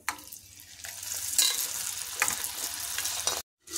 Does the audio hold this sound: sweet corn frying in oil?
yes